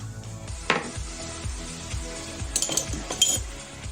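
Mayonnaise, squeezed lemon, salt and pepper being stirred together in a bowl, a steady run of soft scraping strokes with a few light clinks of the utensil against the dish.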